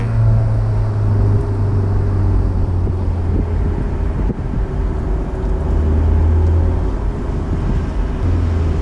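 A Fiat Barchetta roadster cruising along with a steady low engine drone and strong wind rush, heard from inside the open car, loud and continuous with a slight swell near the end.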